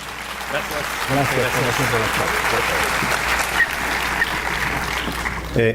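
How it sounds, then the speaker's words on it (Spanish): Audience at an oil and gas industry technology talk giving warm, strong applause to welcome a speaker, dense continuous clapping with some voices mixed in, ending abruptly. "Muy, pero muy cariñosas y fuertes palmas"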